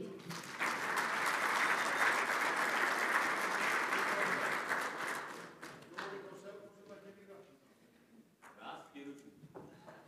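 Delegates at a football association meeting applauding, a sustained burst of clapping lasting about five seconds before fading, with talking and room noise afterward.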